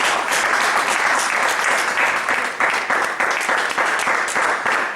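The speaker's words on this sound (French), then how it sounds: "Est-ce que vous pouvez acclamer le Tout-Puissant?" A church congregation applauds during a worship service, dense steady clapping with a few louder near claps, sustained across the whole stretch with faint voices mixed in.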